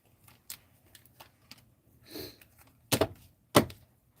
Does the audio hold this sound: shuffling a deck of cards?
yes